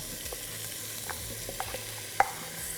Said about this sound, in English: I'm gonna turn up my stove to medium-high and let that saute.